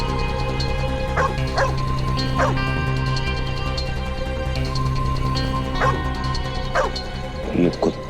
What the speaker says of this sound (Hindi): ये कुत्ता इतना ज्यादा क्यों भौंक रहा है?